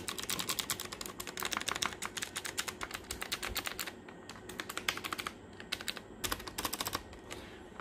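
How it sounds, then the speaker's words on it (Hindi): Fast, steady typing on a TKL mechanical keyboard with round typewriter-style keycaps, giving a dense stream of crisp, clacky keystrokes up close, with brief slower patches and short pauses, and no speech. "इसको कहते हैं जी टाइपराइटर कीज वाला TKL कीबोर्ड"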